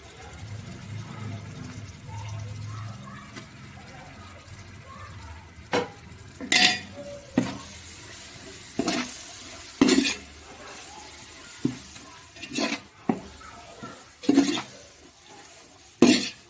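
Ginger, garlic, mint and coriander sauté in a pan for chicken biryani, a soft sizzle under repeated sharp scrapes and clanks of a spoon stirring against the pan, fairly close.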